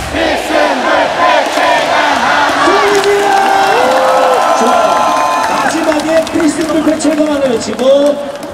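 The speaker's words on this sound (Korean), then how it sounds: "최강하나 외치고 함성을 지르는 겁니다" A large baseball stadium crowd at a Hanwha vs Doosan game chants in rhythmic unison and cheers loudly, a dense wall of many voices sustained throughout.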